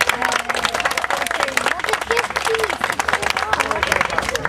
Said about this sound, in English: Give them some applause, my friends.